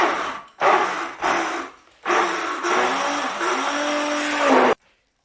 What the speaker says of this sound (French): Je vais mixer un peu ma pâte pour retirer les grumeaux.